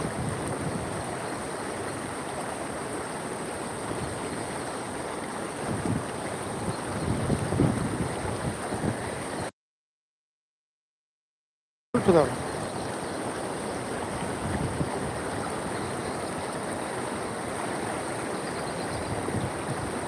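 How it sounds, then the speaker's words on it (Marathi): Loud, steady roar of a flooded, brim-full river during heavy rain, with wind buffeting the microphone, broken by a brief gap of silence midway. "नदी फुल भरून वाहत आहे सर शेतकरी मित्रांनो"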